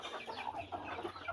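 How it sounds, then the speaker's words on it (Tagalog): Chickens cluck softly in a short burst, several faint overlapping clucks close by. "dami nating mga alagang manok"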